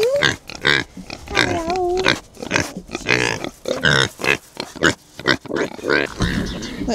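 Pigs grunt and snort close by on a farm in a rapid, uneven run of loud grunts while a person briefly speaks a greeting.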